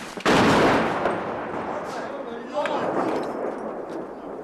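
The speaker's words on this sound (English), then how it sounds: "shells start landing closer as the Russians adjust their aim" Russian artillery shells landing near Ukrainian homes during shelling: a loud, close blast at the start followed by rumbling, echoing debris and a second softer impact, with voices faintly underneath.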